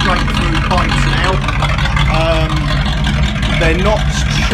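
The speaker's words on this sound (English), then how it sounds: "Much better exhaust. I've taken off the rear mufflers, so they're straight through pipes now." A 1981 Corvette C3 with its rear mufflers removed, running straight-through pipes joined by a Y-piece into a single pipe, gives a loud, continuous low exhaust rumble held at a steady idle, with a voice talking over it.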